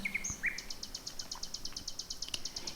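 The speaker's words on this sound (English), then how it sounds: "faintly at first, filtering through the silence, far in the distance, yet unmistakably the song of a summer bird." Nightingale song in summer, a distant bird repeating a rapid run of bright, evenly spaced notes after a few opening whistles, faint and alone against quiet background hiss.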